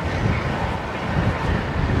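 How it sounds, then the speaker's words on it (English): Steady, rumbling wind buffeting the microphone, loud and continuous throughout, outdoors in a South Australian country town after rain. "it's windy, and it's been raining"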